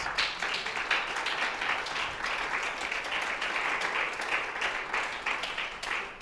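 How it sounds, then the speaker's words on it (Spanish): A church congregation applauds during a Spanish-language sermon, with steady, dense clapping from many hands filling the hall throughout, and no voices on top. "¿Cuánto le dan el aplauso al Señor Jesús?"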